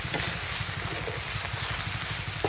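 Spicy eel stir-frying in a hot pan, a steady close sizzle with rhythmic scraping of the stirring utensil throughout, no voices.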